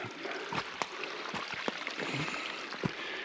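A swollen creek flows beside a road, a constant broadband rush of moving water with small splashes, close by and without talk.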